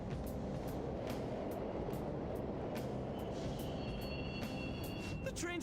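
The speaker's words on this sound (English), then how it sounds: "The trains are totally running." Subway trains run steadily in Persona 5, a continuous low rumble filling the scene with faint metallic squeals toward the end and no talk over it.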